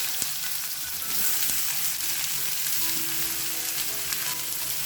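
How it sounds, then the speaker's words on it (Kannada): Mustard seeds, cumin and onion fry in hot oil, giving a steady, dense sizzle with scattered crackles and pops that runs the whole clip, close and fairly loud, with no talking. "ಎಣ್ಣೆ ಕಾಯ್ದ ನಂತರ ಒಂದು ಸ್ವಲ್ಪ ಸಾಸಿವೆ ಹಾಕೊಳ್ಳೋಣ ಸ್ವಲ್ಪ ಜೀರಿಗೆ ಇದು ಚೆನ್ನಾಗಿ ಚಟಪಟ ಅಂದ್ರೆ ಸ್ವಲ್ಪ ಹಿಂಗು ಆಮೇಲೆ ಉದ್ದ ಉದ್ದ ಕಟ್ ಅಂತ ಈರುಳ್ಳಿ"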